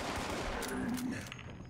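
Gunfire from a video game, a dense burst of rapid shots filling the short stretch at moderate loudness with a faint tonal whine, fading slightly at the end.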